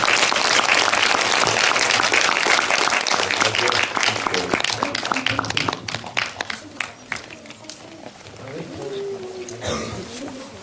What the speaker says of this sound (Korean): 저희 감독님한테 박수 한 번만 더